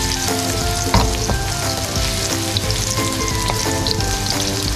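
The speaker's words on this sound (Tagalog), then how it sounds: "Sutay lang yung garlic." Garlic sizzling in hot oil for tofu in garlic oyster sauce, a loud, close, constant frying crackle marked by a few sharp clinks of stirring.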